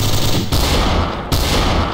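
Dense, sustained automatic gunfire in the Garry's Mod Trouble in Terrorist Town game, loud and close, with rapid bursts that briefly cut out and resume.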